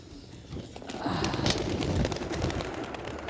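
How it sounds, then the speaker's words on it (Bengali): Pigeons released across a large open field, about twenty birds, with soft cooing and wing flutters rising over steady outdoor background noise, close and moderately loud. "তো প্রথমে শামীম মামার কবুতরগুলো ছাড়াইতেছে।"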